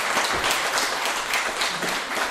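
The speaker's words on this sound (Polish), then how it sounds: "Wielkie brawa." Warm applause from an audience at a rural amateur theatre festival in Poland, dense continuous clapping from a full hall, steady and fairly loud throughout.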